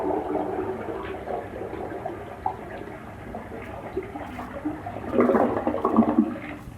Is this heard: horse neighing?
no